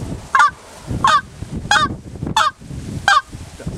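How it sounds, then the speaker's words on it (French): A wind instrument plays five short, evenly spaced notes, each opening with a rough, distorted honking attack resembling a turkey's gobble, loud and close with brief pauses between. "ces notes-là commencent toutes par ce qu'on appelle un turkey"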